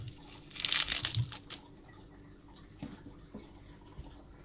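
Crisp, chilled lettuce grown indoors crunches in a burst of crinkly bites near the start, close and moderately loud, then fades to quieter faint crunches.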